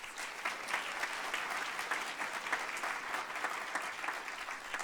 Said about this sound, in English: Let's give all our presenters one more round of applause.